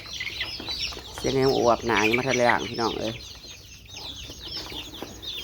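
Free-ranging farm chickens cluck in a close, rhythmic burst of several loud calls that fade into quieter background clucks, while someone speaks over them.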